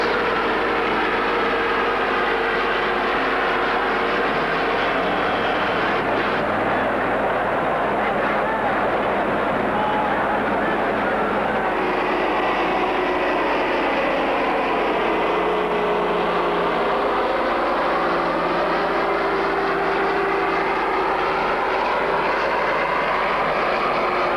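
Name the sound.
tractor engines roaring at a tractor pulling contest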